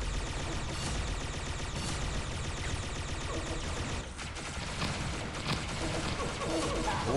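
Gunfire in the Pixel Gun 3D video game, with dense rapid-fire bursts and mechanical weapon clatter running nearly continuously, briefly dipping midway before resuming loudly.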